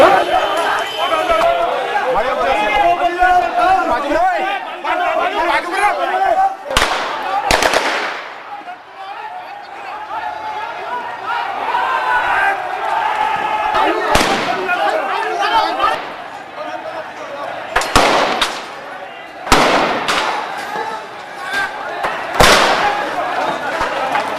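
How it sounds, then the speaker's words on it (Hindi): Gunfire in a scene from the film The Kashmir Files: sharp, loud shots crack out at intervals over agitated crowd chatter and raised voices. "फायरिंग चालू"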